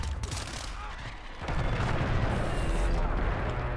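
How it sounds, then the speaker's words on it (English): Gunfire rattles in a video game, a loud, continuous fusillade of shots and blasts that grows heavier partway through. "I missed all my shots."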